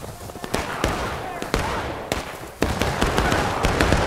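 Musket volleys crack out in War of Rights, a Civil War battle game: sharp, loud shots land irregularly, some near and some farther off, over a constant battlefield din with no clear speech.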